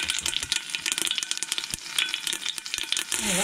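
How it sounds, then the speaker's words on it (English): Seeds pop and crackle in a hot pan on a small gas camping stove. Irregular sharp pops sound close over a soft sizzling bed. "So my seeds are popping."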